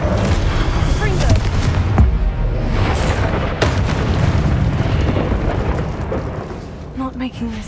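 In Hogwarts Legacy, during Percival Rackham's Trial, a Confringo blasting spell explodes in deep, rumbling booms with sharp cracks over continuous combat noise. A voice is heard amid the fighting.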